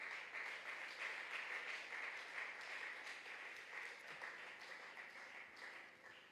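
A church congregation applauds together in a sustained burst of dense clapping that carries on without a break and then starts to thin out toward the end.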